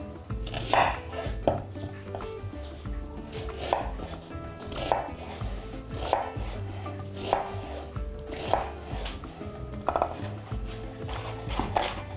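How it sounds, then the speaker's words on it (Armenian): A medium onion being finely chopped with a knife on a board, rapid close knocks in a steady repeated rhythm with brief pauses between bursts, no talking. "Կվերցնեմ մեկ միջին չափի սոխ։ Կտրատում ենք մանր։"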